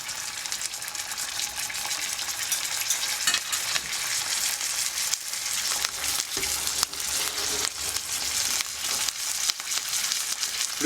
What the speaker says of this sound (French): dans ma poêle, j'ai de l'huile d'olive chaude et je vais faire revenir